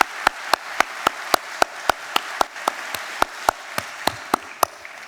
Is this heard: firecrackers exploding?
no